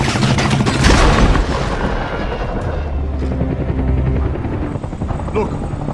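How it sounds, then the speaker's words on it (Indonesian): In a film scene, a helicopter loses control over mountains: a loud rotor roar mixed with booms and crashing impacts, chaotic and heavy at first, then settling into a lower rumble with voices faintly underneath. "helikopter yang ditumpangi oleh Shenwei hilang kendali lalu jatuh ke pegunungan"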